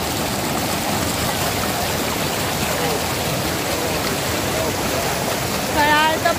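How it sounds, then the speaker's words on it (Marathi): The Dawki river babbles over stones in a steady, loud, close rush of flowing water, with a brief voice rising near the end. "खळाळतं पाणी वाहतंय नदीचं"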